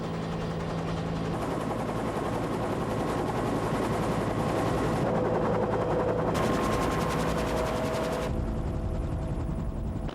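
A Cobra attack helicopter flies a low tactical training flight in bad weather, its rotor thumping and engine roaring loud and steady from start to finish.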